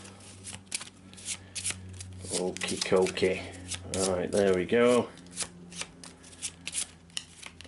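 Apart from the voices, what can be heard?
shuffling cards for the Eldritch Horror board game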